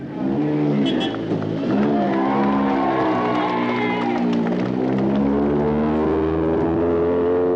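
Rally car engines rev and roar nearby as cars pull away from the start of the 1983 Scottish Rally in Lanark, the pitch rising and falling, with crowd noise and scattered clapping underneath.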